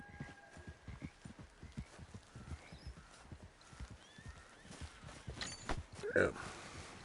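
In Red Dead Redemption, a horse walks with a steady rhythm of soft clip-clopping hooves, moderately close, joined by a short neigh near the end and faint background voices.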